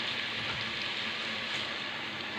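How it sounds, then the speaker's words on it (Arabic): Onions frying in oil in a pot on a gas stove, a dense, steady sizzle like fine rain, close and even, with no talk. "وحاطين البصل على البوتاجاز تتحمر"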